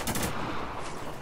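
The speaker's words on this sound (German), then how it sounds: "Wir sind schwer unter Beschuss!" Dense, sustained gunfire from the video game Spec Ops: The Line fills a short burst of a desert battle, with overlapping shots crowding together loudly and without pause.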